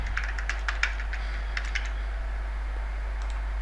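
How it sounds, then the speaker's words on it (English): Light, quick keystrokes tapped on a computer keyboard in short irregular runs while logging in, over a steady low electrical hum. "I'm typing the wrong username."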